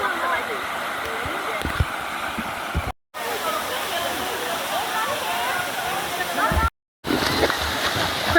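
Steady broadband rush of the Blue Basin waterfall, loud and continuous near at hand, cut by two brief silent gaps, with people talking faintly beneath the roar.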